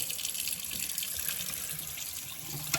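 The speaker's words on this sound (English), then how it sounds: "get the water going here" Warm water runs steadily from a tap for a few seconds, a close, even hiss and splash with no voices, while a scale model car is being weathered with hairspray.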